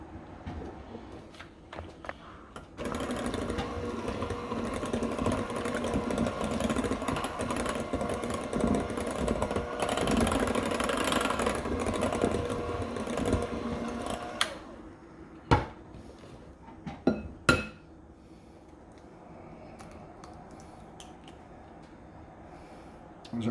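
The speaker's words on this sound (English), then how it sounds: "We'll put these in one at a time and mix them in." An electric hand mixer whirs steadily for about twelve seconds, beating eggs into banana muffin batter in a bowl, a close, even motor drone that stops, followed by a few sharp knocks and clatters.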